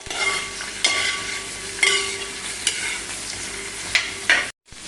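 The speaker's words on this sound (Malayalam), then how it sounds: "ആ മുരിങ്ങാക്കോല എണ്ണയിലൊന്ന് വാട്ടിയെടുക്കുന്നുണ്ട്." Drumsticks and vegetables sauté in hot oil in an uruli, a steady close sizzle with several sharp stirring scrapes and clinks against the pan, then a brief moment of near silence at the end.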